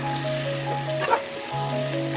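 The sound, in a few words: paneer, carrot, beans and capsicum frying in pan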